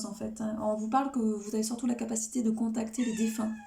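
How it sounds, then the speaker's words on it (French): A cat meows several times in short tonal calls. The calls are mixed with someone talking in French close by. "Il miaule tout le temps."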